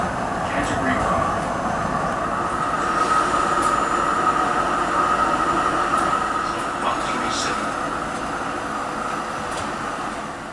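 A Melbourne tram rolls steadily along a curved track, a continuous low rumble with a faint metallic whine and occasional squeaks, with voices speaking over it.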